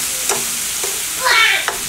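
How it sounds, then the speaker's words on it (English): Garlic and seasoning stirred into shrimp scampi in a pan, a few scraping strokes and a brief louder sizzling swirl over a steady background hiss, close and fairly loud. "we're going to go ahead and work that garlic and seasoning in"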